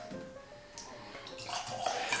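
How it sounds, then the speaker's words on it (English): Little Book Chapter 8 rye whiskey pours into glasses with soft, close liquid trickling and splashing that swells toward the end. No one speaks. "So, let's pour in the glasses here."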